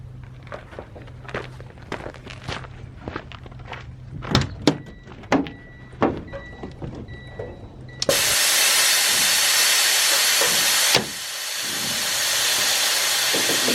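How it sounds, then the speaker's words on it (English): A few sharp clicks and knocks, then a loud, sustained hiss of air rushing out of a semi-truck tractor's air suspension that continues to the end. "I let the air out of the suspension"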